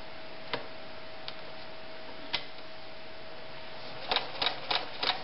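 A White 1077 sewing machine punches through eight layers of denim with a few isolated sharp clicks. A quick burst of ticking stitches follows near the end, and no one speaks.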